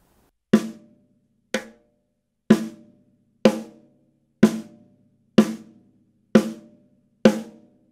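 A snare drum with a Remo Starfire head and an M1 dampener is struck with eight sharp, solo rimshots about a second apart, each cracking loudly and then dying away quickly.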